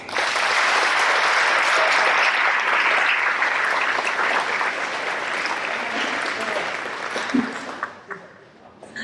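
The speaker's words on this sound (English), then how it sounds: "We have a round of applause." A large audience at an 8th grade awards program claps in a sustained, loud round of applause that fades toward the end, with a few faint voices underneath.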